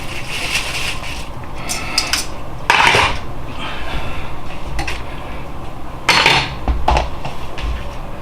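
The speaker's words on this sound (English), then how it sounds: "Use the big tongs to break it open again. Cut up the insides a little." Big tongs break open and cut into an air-fried potato, with repeated close metallic clinks and scraping against the dish, including a few sharper, louder clatters; no talking.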